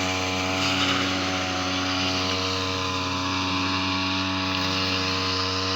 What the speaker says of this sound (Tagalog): Dalawa na sila nagagrass cutter dito ni kapakner.